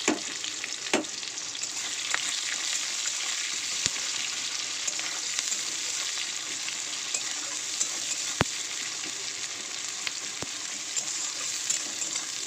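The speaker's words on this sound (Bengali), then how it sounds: "তেলটা গরম হয়ে গেছে, দিয়ে দেবো ফোড়নে 5 ফোড়ন। তো দেবো একটু কুচানো পেঁয়াজ ও 2টো কাঁচা লঙ্কা" Panch phoron, chopped onion and green chillies frying in hot oil, a close, even sizzle with occasional sharp clicks of a spatula against the pan, steady throughout and no voices.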